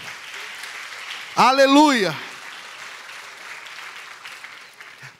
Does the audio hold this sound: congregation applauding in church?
yes